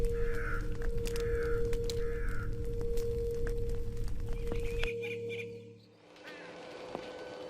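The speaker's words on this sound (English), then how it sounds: "Large black crows are watching me." Large black crows caw in the video game The Lost Crown, three harsh evenly spaced calls over a steady humming ambient drone, followed by a quieter, hollow stretch of game atmosphere with no talk.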